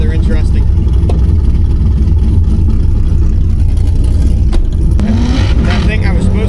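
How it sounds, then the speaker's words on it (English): Loud, close engine drone from an LS2-swapped El Camino drag racing a C8 Corvette Z06, heavy low rumble held throughout with a brief revving rise near the end, and a voice talking over it. "Here we go, racing a C8 Z06."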